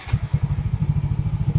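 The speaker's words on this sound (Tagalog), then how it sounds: "pabuhay nga ng motor." A Honda Mio i 125 motorcycle engine running after being started, a close, even low putter of rapid regular pulses without talk.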